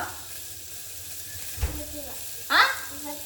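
Cubes of paneer roast in a hot pan for a pasta dish, giving a soft steady sizzle with a short scrape near the middle and a louder hissing burst of stirring toward the end.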